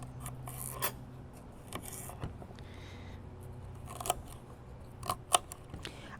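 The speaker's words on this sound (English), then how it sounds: "this is the way I cut the celery." Celery stalks being cut for an Italian potato salad. Scattered crisp snips and crunchy cuts sound close but fairly quiet, with a few sharper clicks near the end and no talking.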